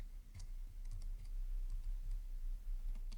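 Code is typed quietly on a computer keyboard in scattered light key clicks over a low background hum.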